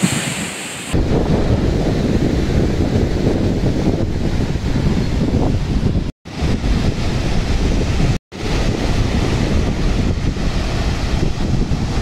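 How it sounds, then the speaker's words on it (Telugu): Ocean waves at RK Beach in Visakhapatnam, a loud continuous roar of surf mixed with heavy wind buffeting, broken by two brief gaps. "నేను ఇప్పుడు ఆర్కే బీచ్లో ఉన్నాను ఫ్రెండ్స్."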